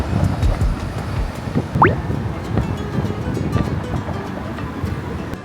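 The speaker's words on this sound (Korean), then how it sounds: "바람." Wind gusts in Amsterdam rumble across the microphone in a loud, buffeting outdoor roar with uneven swells.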